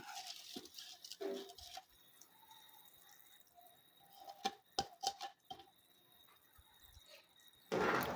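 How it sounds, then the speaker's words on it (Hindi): Water at a full rolling boil in a cooking pot, ready for basmati rice, gives faint scattered bubbling pops and drips with no talk. "ये देखिए, पानी में पूरी तरह उबाल आ गया।"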